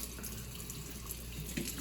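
Water running from the leaking flex joint of a Moen pull-down kitchen faucet hose: a steady, quiet stream-like hiss with no talking.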